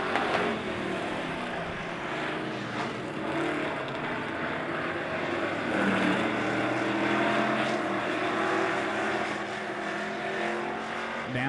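Super stock race cars roar around the Lebanon Midway Speedway oval in a heat race coming out of turn four, with loud, steady engine noise, passing swells and faint tire sounds throughout.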